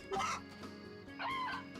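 Chickens clucking in the farming video game Story of Seasons, two short clucking bursts close up with a soft game backdrop.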